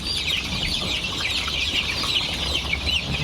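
A crowd of Fayoumi chicks in a farm brooder cheeps constantly in high, overlapping peeps, busy and close, with a soft low background rumble.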